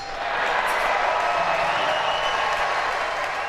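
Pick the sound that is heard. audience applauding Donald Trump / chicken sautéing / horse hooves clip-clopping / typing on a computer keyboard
audience applauding Donald Trump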